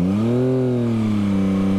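A Yamaha MT-09 SP motorcycle engine revs close by. Its strong, steady drone climbs in pitch, peaks, then eases back down, with no talking.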